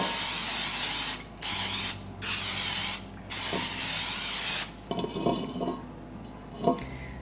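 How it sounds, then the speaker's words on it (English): Olive oil cooking spray hisses into an older Bundt pan in four sharp bursts, each about a second long and close, followed by light clinks and clatter of the can and pan. "I'm gonna spray it with some of this olive oil cooking spray."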